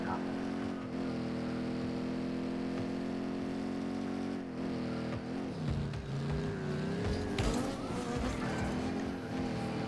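A steady, droning car engine hums continuously with rising and shifting revs, the synthetic tone of a Rocket League car, with occasional voices underneath.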